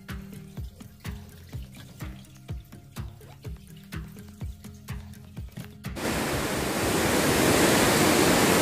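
Heavy rainwater and drainage runoff flooding into a temple courtyard: a steady broadband rush of water with repeated knocks and clatters early on, then a loud, continuous wash of flowing water taking over and swelling.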